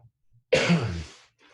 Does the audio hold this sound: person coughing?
yes